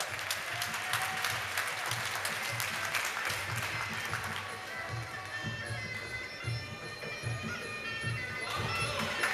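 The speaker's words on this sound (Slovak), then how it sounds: "Potlesk pre Paťa" Sustained audience applause fills the hall at a Muay Thai kickboxing title bout, a dense, steady clatter of many hands clapping throughout, with no speech on top.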